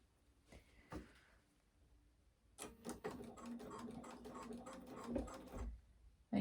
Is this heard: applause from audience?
no